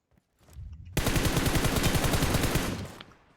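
A sustained automatic burst of gunfire in PUBG Mobile, with rapid evenly spaced shots that are loud and close, running for about two seconds before tailing off, and no talk over it.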